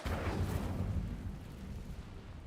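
A fire spell blast erupts in a Harry Potter video game, a broad roaring whoosh that flares loudly at once and then sustains a rumbling crackle for a couple of seconds.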